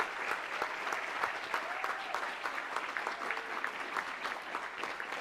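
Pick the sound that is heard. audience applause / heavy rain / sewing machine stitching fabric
audience applause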